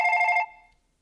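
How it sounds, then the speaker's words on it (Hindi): A telephone rings loudly on a television comedy talk-show set: one bright, tonal ring burst that stops abruptly and then fades into silence. "सर एक फोन ले लूं?"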